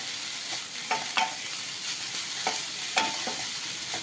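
Coconut sautéing in a pan with moringa leaves for chutney, giving a steady close sizzle with a few brief scraping stir strokes.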